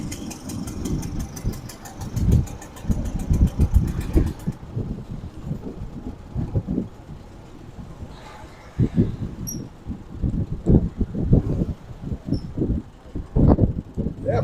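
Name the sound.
1914 Ford Model T engine running while riding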